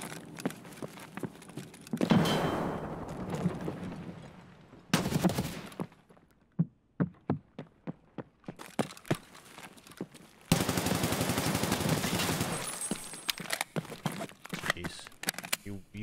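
Gunfire in the Escape From Tarkov video game: bursts of automatic fire alternate with strings of single, spaced shots, loud and close, over sixteen seconds.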